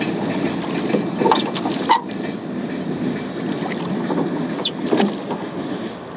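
An old rowboat rowed on water in a park, with steady splashing and knocking of oars, creaks and wind buffeting the microphone throughout.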